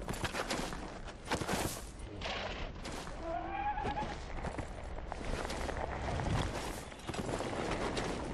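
Radahn's horse in Elden Ring whinnies in a rising, wavering neigh amid heavy hoofbeats and dense battle rumble, all loud and continuous, with orchestral game sound mixed in.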